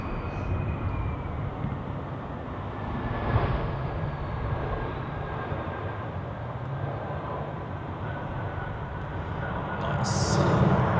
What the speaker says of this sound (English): So, that's the A320 from Naples, shaking around a little there.